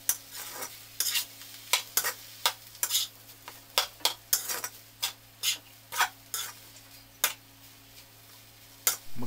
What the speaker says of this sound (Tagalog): Tapos imimix uli natin.